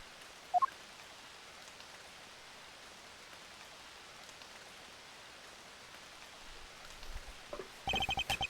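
Steady rain falls evenly in the Ace Attorney Investigations game, a soft continuous hiss broken by a brief chime near the start and clicking game sounds at the end.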